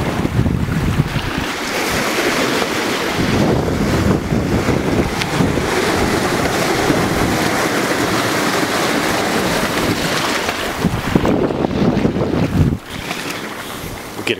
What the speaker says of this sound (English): A little bit of westerly wind.